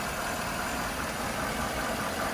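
A 2013 Chevy Silverado 1500 engine with oil pressure issues idles near operating temperature, a smooth, even, continuous rumble heard up close with no talking.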